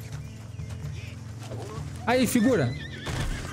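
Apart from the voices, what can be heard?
horse neighing and hooves in video game Red Dead Online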